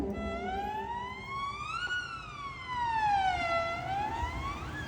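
A performer's voice imitates a fire engine siren on stage at a comedy fusion music show, with a slow rising and falling wail that is sustained, clear and close.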